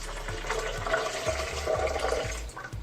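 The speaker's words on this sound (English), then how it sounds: "I shall add the water." About 500 ml of water pouring into a container for homemade almond milk, a close, splashing gush that rises and falls in short surges for a few seconds.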